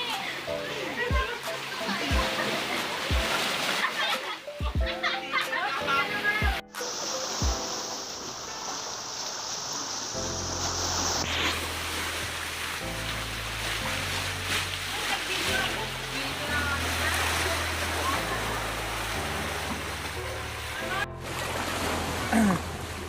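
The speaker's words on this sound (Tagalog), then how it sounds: "Ayun, medyo malakas ang alon mga kaibigan." Strong waves slap and splash against a boat during an island outing, water sloshing and surging loudly up close while people talk over the rushing sea and a low engine rumble.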